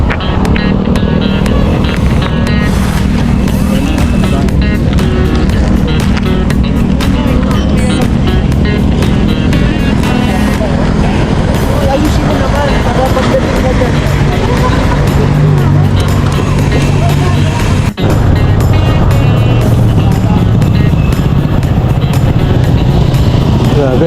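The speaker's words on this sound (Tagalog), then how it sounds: "Grabe, haba ng traffic." Loud, dense road traffic at night in heavy congestion, heard from a moving bicycle: engines and motorcycles rumble continuously at close range, with wind buffeting and a constant noisy wash throughout.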